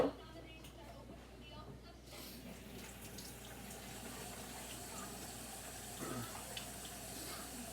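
Water runs steadily from a tap into a cooking pot in a home kitchen, a continuous low splashing fill that carries on without pause at moderate volume.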